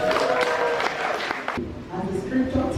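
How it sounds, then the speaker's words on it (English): A church congregation claps in a quick burst of sharp, close hand claps for about a second and a half, then a preacher starts talking as the clapping stops. "So clap for Jesus."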